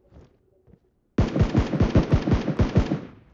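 Rapid automatic gunfire in PUBG Mobile: after a near-silent second with faint sounds, a loud, close burst of about a dozen evenly spaced shots rattles out in quick rhythm, then stops abruptly.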